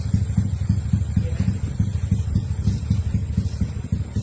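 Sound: motorcycle engine starting and revving

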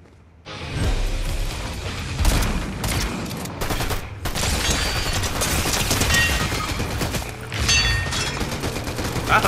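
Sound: gunfire from Fortnite, a video game

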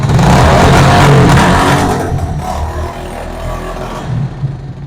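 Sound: motorcycle engine started with self-start and revving

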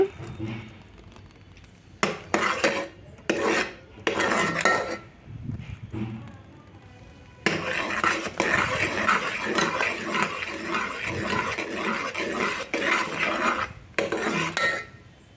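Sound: stirring peanuts in jaggery syrup in a pan

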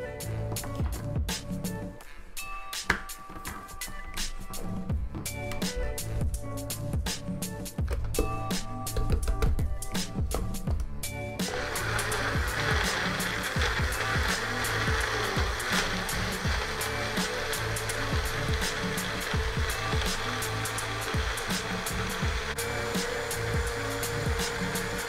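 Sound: blender pureeing mangoes, strawberries and peaches

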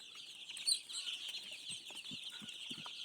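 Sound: chicks running around and eating

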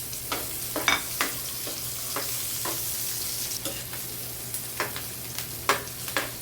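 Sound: sautéing onion in a pan

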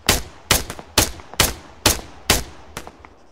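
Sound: gunshots in video game Arma 3

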